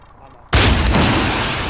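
Loud, sudden launch blast of a Javelin anti-tank missile fired in a military video game, bursting in after a quiet moment and rolling on as a sustained roar.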